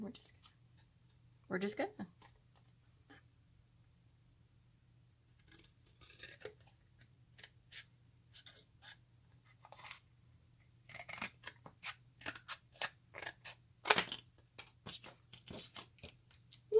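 Paper or card being snipped with scissors while building a cheap DIY tarot box, a scattered run of short crisp cuts, close and fairly quiet over a low steady hum, with a person talking at times.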